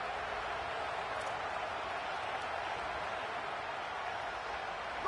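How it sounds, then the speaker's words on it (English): Alabama home crowd roaring at Saban Field on third down in the College Football 27 video game: a dense, steady stadium wash of noise that holds at an even, loud level throughout. "The Tide crowd rolling noise down onto Saban Field on 3rd down."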